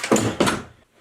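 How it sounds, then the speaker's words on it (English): Two quick heavy thuds of a door being fitted and knocked into place, close and loud, followed by brief silence. "Putting a door on is hard work."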